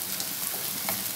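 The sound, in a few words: garlic frying in a pan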